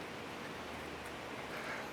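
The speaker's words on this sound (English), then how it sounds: "Guess you guys can hear the rain outside." Heavy rain falls outside, heard from indoors as a steady, faint, even hiss of broadband noise with no breaks and no voices.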